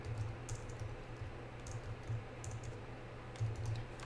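Quick, light typing on a computer keyboard, with soft clustered keystrokes in short bursts over a low steady hum.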